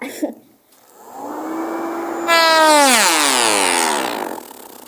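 An electric fan motor rigged to mimic a car engine whirs up with a rising whine that climbs in pitch like an engine revving, then holds a loud buzzing drone before easing off.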